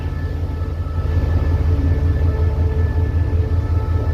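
A State Railway of Thailand locomotive idles close by at a station before a Chiang Mai to Bangkok sleeper run, giving a steady low diesel rumble with a constant mechanical hum and no pauses.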